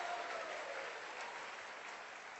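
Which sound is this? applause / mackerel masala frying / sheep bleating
applause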